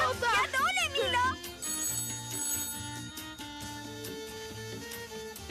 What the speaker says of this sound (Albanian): Telefoni!